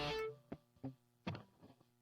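A sustained distorted electric guitar chord cuts off, followed by several short, choppy palm-muted hits in an uneven rhythm, fairly loud and close.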